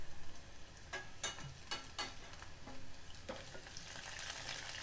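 Crushed ginger-garlic and cumin fry in a pan for vegetable biryani, a soft steady sizzle broken by several sharp spoon scrapes and clicks while stirring, close and quiet, without talk.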